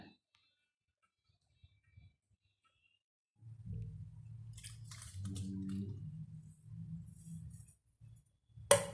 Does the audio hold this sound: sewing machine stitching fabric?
no